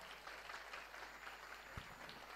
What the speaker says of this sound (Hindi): तो जोरदार ताली वाड़ो तो एक बार